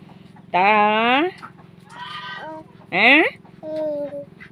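Goat bleats sound on a farmyard among chickens: a long wavering bleat, a shorter softer one, then another strong quavering bleat and a faint final call, all fairly close over a steady background hum.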